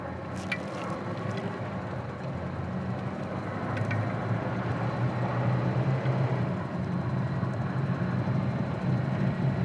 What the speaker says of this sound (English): Back on the gas, off we go.